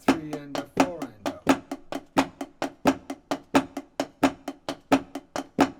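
Shuffle rhythm on drums, left-hand triplets running over a foot pattern: a dense, even stream of sharp close strokes with regular stronger pulses, played steadily without voices.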